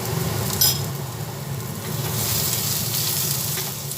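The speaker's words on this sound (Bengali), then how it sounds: "আবার পেঁয়াজ রসুন আদা তিনটেই ভালোভাবে তেলের মধ্যে নাড়াচাড়া করে নিচ্ছি" Onion, garlic and ginger sizzle steadily in hot oil for an egg malai curry, a dense continuous frying hiss with soft stirring scrapes throughout, close and fairly loud.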